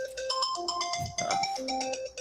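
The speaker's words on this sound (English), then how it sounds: "please silence your phone so it does not interrupt the show" A mobile phone ringtone plays a bright, repeating melodic pattern of electronic tones, fairly loud and close, with a short burst of background noise in the middle and no talk over it.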